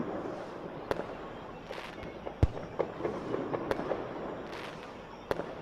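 Fireworks burst at varying distances during a 4th of July or New Year's display, sharp cracks and booms spaced irregularly over a low rumbling background, with no voices.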